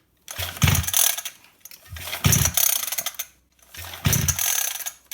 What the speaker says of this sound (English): Now I'm going to do a compression test.